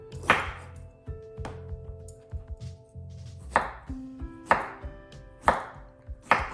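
A knife cuts a peeled bottle gourd on a board, giving a handful of sharp, separate chopping thuds at uneven intervals, close and distinct over a quiet background.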